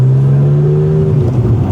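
A modified car engine revs close by with a loud, smooth rising and falling drone, heard alone without talk.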